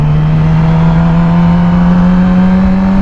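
A motorcycle engine drones loudly and steadily up close in a sustained rev with a strong, even hum, no distinct gear change audible in this short stretch and no voices.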